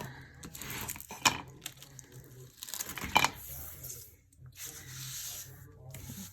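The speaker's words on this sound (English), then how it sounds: "I'll get my vinyl here, and my transfer tape, give that a good little rub" Firm rubbing over vinyl and transfer tape while crafting a Mother's Day treat box, a close scratchy scrubbing with a few sharper strokes, fairly quiet and continuous with some faint voice underneath.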